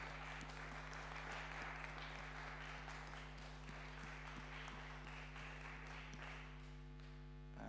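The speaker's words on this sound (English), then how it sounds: "I believe a small clap is in order" A brief, modest round of clapping from a conference audience, fairly faint and steady, over a constant low electrical hum from the room's sound system.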